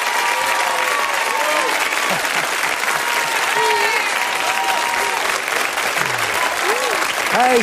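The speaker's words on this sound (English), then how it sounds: "a standing ovation from most of the crowd" Dance show audience giving a standing ovation, steady loud applause with scattered cheers filling the whole stretch, voices audible over the clapping.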